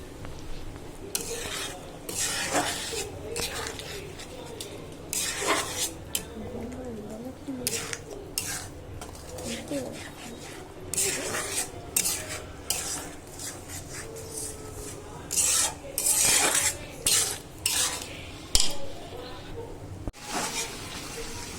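A spatula stirs and sautés spice masala in a pan with intermittent metallic scrapes and clinks. The bursts are irregular and fairly close, with quieter gaps between them.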